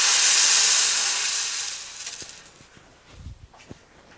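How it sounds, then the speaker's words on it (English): Water goes into a hot pan of rice for albondigas, starting with a loud sizzling steam hiss that fades over about two seconds into soft bubbling and a few light clinks. "Go ahead, add in the water."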